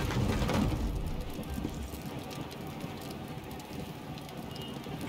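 Steady rain falls in the video game Lost Ark, a dense, even wash of hiss and patter that is slightly louder at the start and then holds constant without speech.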